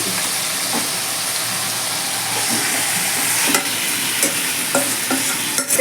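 Marinated chicken tipped into a sizzling, oil-releasing spice paste for Bengali chicken kasha, with a loud continuous hiss and sizzle plus scattered scraping stirs of a spoon in the pan, close up and without voices.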